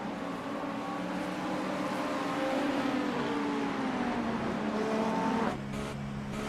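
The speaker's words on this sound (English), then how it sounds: "You could hear the engine sputtering along." A GTP race car in the iRacing sim at Daytona, out of fuel, drones on with a steady, wavering engine note that slowly drops in pitch before cutting away near the end.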